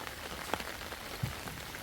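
Rain falls on a backwater at Munroe Island, a soft, even hiss of patter on the water with a couple of distinct nearby drips standing out. The sound is faint overall.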